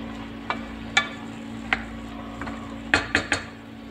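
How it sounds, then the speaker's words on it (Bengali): Curry being stirred in a pan, a metal spoon scraping and tapping against the pan in scattered clinks, with a quick cluster of three knocks near the end over a steady low hum. "তো সুন্দর করে এটা আমি নেড়ে চেড়ে দিয়ে তারপরে কষাচ্ছি ভালো করে।"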